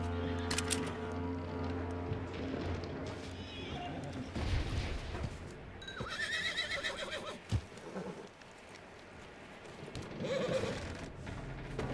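Red Dead Redemption 2 horse whinnies loudly several times while hooves clatter and shuffle, with other game sounds and voices mixed in across the scene.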